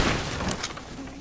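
Gunfire in the Fortnite video game, a dense burst of overlapping shots over continuous game noise, steady and moderately loud for the whole moment.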